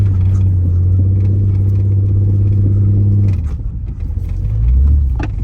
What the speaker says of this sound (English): Just driving a little sideways right now.